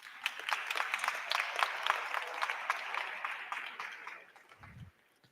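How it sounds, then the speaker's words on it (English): Hall audience at a high school ceremony applauding scholar athletes, a steady wash of many hands clapping that tapers off over the last second, with a brief low thump near the end. "please give them a big round of applause"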